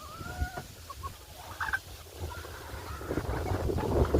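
Chickens, including Amberlink and Brahma hens with a Brahma rooster, cluck on and off close by in a farmyard, with brief sharper calls among steady low rustling and background noise.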